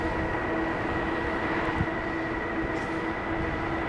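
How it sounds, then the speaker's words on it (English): A Wallke X3 Pro Max dual-motor e-bike accelerating on throttle alone in snowy conditions, giving a steady whine with tonal hum that holds constant under broadband wind and rolling noise for the whole stretch. "Let's see how quick the throttle goes. Dual motor. Throttle only."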